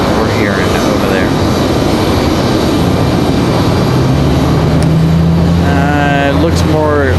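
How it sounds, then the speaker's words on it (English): A Delta Airbus A220-300 jet airliner at Raleigh-Durham airport gives a continuous engine roar with a low steady hum beneath, and a voice speaks briefly near the end over the jet noise. "It looks more likely to be the Delta A220-300 headed back to Boston"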